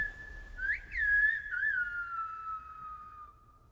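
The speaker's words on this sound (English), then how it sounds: "it's actually a whole way of speaking using whistles. It's called el silbo, the whistle" A single whistler uses El Silbo, the whistled language of the locals, producing a clear, loud, melodic line that glides up and down with short breaks, standing out alone against quiet background hiss.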